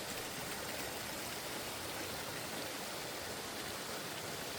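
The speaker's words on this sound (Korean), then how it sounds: "한량소 폭포입니다." Steady, broadband rushing water from Hanryangso waterfall in an autumn valley on Jirisan, a constant hiss and roar, fairly faint and unchanging throughout.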